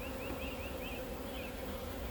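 Bees at an opened beehive hum in a thick, continuous buzz, with single insects whining past close by in short rising and falling passes over the faint swarm.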